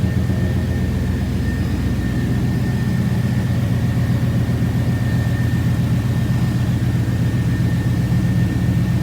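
A Pontiac Firebird engine idles nearby with a deep, steady rumble and a faint high whine, running evenly without revving.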